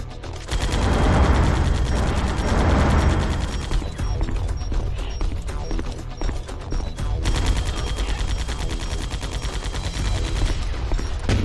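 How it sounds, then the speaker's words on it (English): Dense, sustained gunfire and mechanical clatter from Metal Gear Solid: The Twin Snakes, a loud continuous rattle of bursts filling the whole stretch with little pause. "What are you shooting at?"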